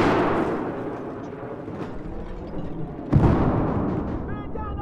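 Gunfire and explosions in Battlefield 4 on the Hainan Resort map during a large Conquest match, a rumbling mix of distant booms with a sharp, louder blast near the end over continuous battle noise.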